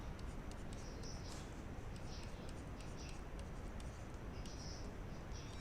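Pen writing out a chemical equation on paper, faint scratchy strokes in short bursts, close up over background hiss.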